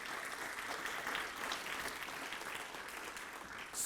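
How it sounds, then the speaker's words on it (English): Steady applause from a graduation ceremony audience honoring parents and loved ones, a dense wash of many hands clapping evenly throughout, moderately distant and without talk. "let's give our parents and loved ones a big round of applause today as well for your support"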